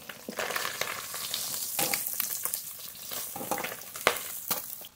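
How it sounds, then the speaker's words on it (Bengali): Singhi fish sputter and crackle as they fry in hot oil, close and fairly loud. Irregular pops and sharp bursts of spatter rise above a constant sizzle. No one speaks. "বাকি মাছগুলো ভেজে নেব।"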